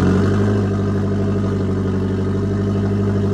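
A Nissan 240SX engine idles steadily nearby on its stock exhaust with a low, even hum and a soft, mild exhaust note, no revving.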